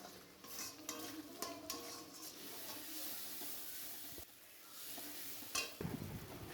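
Paneer masala with onion, garlic and chili powder is stirred and sautéed in a pan, a soft continuous sizzle broken by scraping and clinks of a utensil against the pan, fairly faint and close.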